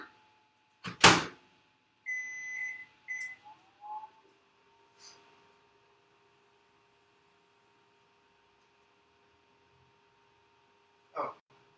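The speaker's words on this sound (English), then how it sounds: "we're going to pop it back in the microwave again for another 30 seconds" A microwave oven reheating chocolate gives a few short beeps and a steady electronic tone, then hums faintly and steadily, with a sharp clunk of the door at the start and another near the end.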